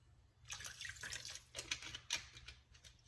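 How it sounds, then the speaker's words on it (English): Tap water pours into a bowl of cut potatoes, a splashing, gurgling stream that starts after a short pause and carries on unevenly, quiet and close. "You want to fill the bowl now with enough water to make sure all of them are covered."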